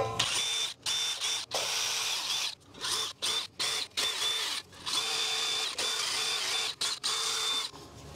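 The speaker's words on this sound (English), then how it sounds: "I'm just going to use this little wire brush here on a drill" A power drill spins a wire brush in repeated short bursts, cleaning rust off brake parts on a 2015 Honda Crosstour, a harsh buzzing scrub that starts and stops over and over at close range.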